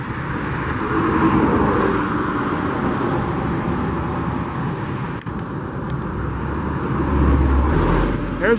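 A freight train of plastics industry hopper cars, including ten-hatch cars and a four-hatch car, rolls past with a steady, loud continuous rumble and rolling roar that swells slightly near the end.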